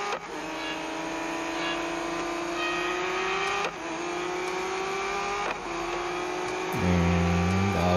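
Race cars rolling through a start at Daytona in a racing video game, engines droning steadily and loudly with brief gear-change dips, then a deeper revving note near the end.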